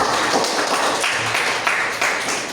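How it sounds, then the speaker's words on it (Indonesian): A group applauds after a classroom activity, a dense, steady wash of many hands clapping together, fairly loud and unbroken throughout. "Bagus sekali, tepuk tangan lagi untuk kita semua."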